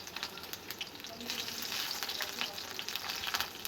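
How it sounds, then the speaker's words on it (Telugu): Onion frying in oil in a kadai gives a soft, steady crackling sizzle with small popping bursts, quiet and close, with no talking. "ఒక కడాయిలో ఆయిల్ వేసుకొని ఆనియన్ వేయాలి."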